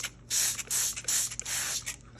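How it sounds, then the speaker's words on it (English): Water spritzed from a spray bottle over sourdough discard crackers topped with herbs and cheese, laid between sheets of parchment paper: several close, loud hissing bursts in an uneven rhythm, with no talking. "so I just spray them with water"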